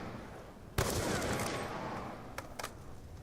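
A DSR-50 sniper rifle fires in Black Ops 2 Zombies: one loud, sharp shot with a lingering tail, then a couple of quicker, fainter bursts near the end.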